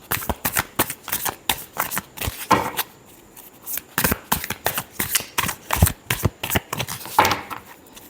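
Tarot cards are shuffled by hand in quick riffling bursts, a crisp papery flutter repeated in clusters with brief pauses between them, close and clear with no talking.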